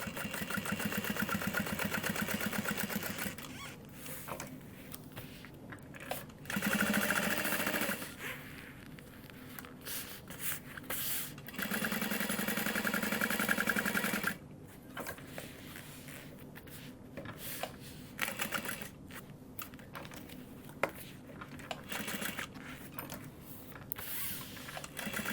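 A sewing machine bastes a tote bag piece, its motor whirring in short and longer bursts with pauses between runs. It is close and moderately quiet, with handling clatter in the gaps.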